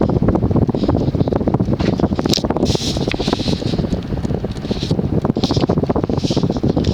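Craftmade Sergio Firenze 52-inch ceiling fan with narrow, slightly warped blades running on high, giving a steady broadband whoosh of moving air with faint rhythmic swishing, close and constant throughout.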